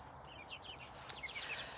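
Chickens in a backyard flock give faint, soft clucks and short chirps, a few scattered calls over quiet background hiss.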